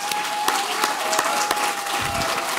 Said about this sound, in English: How about a round of applause for our honorees?